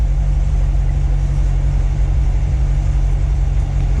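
Corvette Grand Sport exhaust in track mode holds a steady, deep idle burble, loud and close, an even low rumble throughout with no voices.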